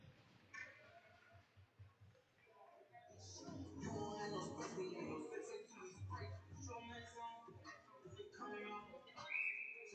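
A referee's whistle at a varsity ice hockey game gives one short, shrill blast near the end, cutting through steady arena crowd noise while a commentator talks throughout.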